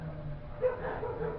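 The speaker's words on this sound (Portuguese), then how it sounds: "Espera aí que minhas cachorras estão brigando" Two female dogs fighting at a distance, with faint yips and growly barks muffled under the indoor room noise.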